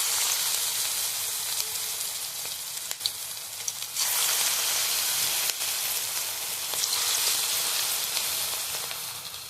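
Cabbage pakoras sizzle in hot oil in a wok, a steady bright frying hiss with brief crackles and a sudden louder burst partway through, no voices.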